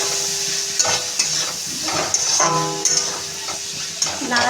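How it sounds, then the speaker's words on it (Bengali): A pot of long beans with peanut and mustard curry sizzles steadily while a spoon stirs it, scraping and tapping against the metal at uneven intervals. "এটা আমি আরেকটু নাড়াচাড়া করে দিলাম।"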